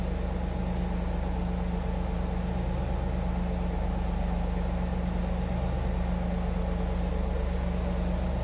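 A 1997 Chevrolet Camaro Z28 30th Anniversary idling steadily from behind the car, a low, even exhaust rumble with a mild note, no revving, continuous and unaccompanied.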